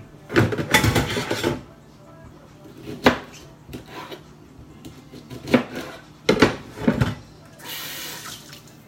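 Food being cut up by hand for a meal prep session: a knife chops in several separate bursts of quick strokes against a board, with running water and kitchen clatter in the background.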